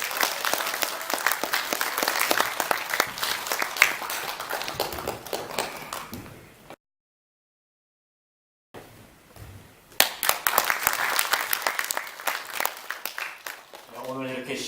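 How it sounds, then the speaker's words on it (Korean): An audience at a Korean history forum gives a speaker a welcoming round of applause, with dense clapping that stops abruptly for about two seconds of silence and then resumes before fading. "여러분 박수로 맞아주시기 바랍니다."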